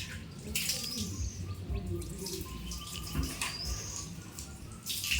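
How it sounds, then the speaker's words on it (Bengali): Water splashes and trickles as it is poured to wash a spot at a Shiva shrine during a Shravan Monday ritual, coming in soft intermittent gushes with sharper splashy bursts, fairly quiet and close. "এই জায়গাটা ভালোভাবে পরিষ্কার করে নিতে হবে জল দিয়ে"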